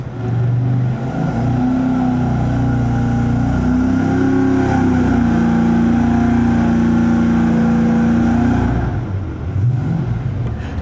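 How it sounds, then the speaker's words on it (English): A cold car engine freshly converted to fuel injection idles fast with its throttle blade shut, a loud steady droning tone that holds level for most of the stretch before easing off near the end, with no voices. "looking at how the idle speed is really fast, and that might just be because it's cold, because he's got the throttle blade all the way shut"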